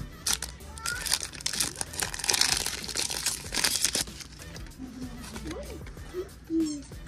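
Crinkling and tearing of a foil Pokémon card booster pack wrapper being ripped open by hand, a busy burst of crackly plastic rustle up close, then softer handling with a few short spoken sounds.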